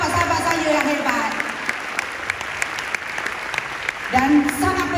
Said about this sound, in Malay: Satu tepukan lagi untuk Amway dan sahabat-sahabat saya yang hebat.